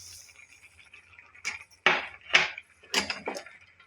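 Bottle gourd halwa stirred with sugar in a pot, giving a handful of close, distinct scraping knocks of a spoon against the metal in an uneven rhythm after a near-quiet start.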